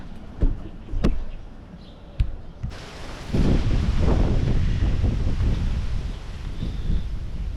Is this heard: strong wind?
yes